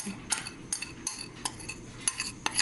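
A utensil stirs ingredients in a bowl, making quiet, irregular clinks and scrapes spread across a few seconds, fairly close and soft, with no voices.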